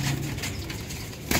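Pigeons in a fancier's loft of high-quality Sialkoti game birds for sale, with soft low cooing and brief wing flaps near the end against a steady close background.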